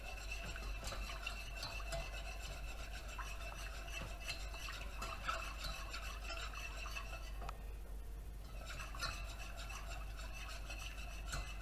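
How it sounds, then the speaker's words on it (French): A roux is stirred in a pan to make a velouté sauce, giving a continuous soft scraping and rasping rhythm under a faint background hum, with a short pause near the end and no speech. "On va mélanger un petit peu avec le roux"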